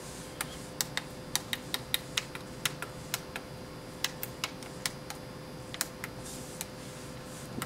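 Keys clack in sharp, separate taps on a homebuilt RC2014 Z80 retro computer keyboard, an irregular run of crisp clicks close by over a steady low electrical hum, with no talking.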